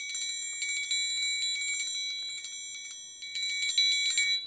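A metal triangle rolled with a beater, giving a steady shimmering ring of rapid strokes that swells and fades slightly in loudness, bright and close with no talking.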